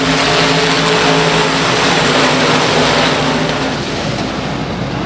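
Dirt track limited modified race cars roar continuously as they accelerate back to racing at The Rev, a loud, dense engine drone filling the whole stretch without a break.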